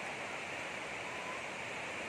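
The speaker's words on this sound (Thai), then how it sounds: "นี่นะครับน้ำตกคลองลานนะฮะ" Khlong Lan waterfall in Kamphaeng Phet, Thailand, gives a steady, unbroken rushing roar of falling water, even in loudness throughout, with no voices.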